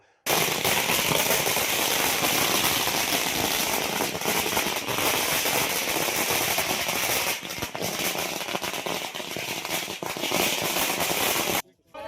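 A long, dense barrage of firecrackers bursting continuously at a political party workers' victory celebration, loud and crackling for about eleven seconds before cutting off abruptly.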